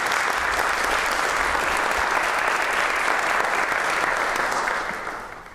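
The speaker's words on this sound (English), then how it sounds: "So please join me in giving them all a hearty round of applause." A hall audience gives a dense, steady round of applause for a panel of speakers, loud and even for several seconds before tapering off at the end.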